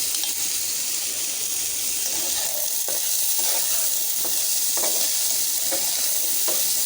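Small potatoes fry in oil in a pan with salt and turmeric, giving a loud, continuous close-up sizzle with occasional stirring scrapes and soft crackles throughout.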